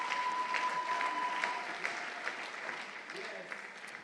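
Church congregation applauding, a sustained wash of many hands clapping at moderate distance, fairly even and continuous, with faint voices mixed underneath.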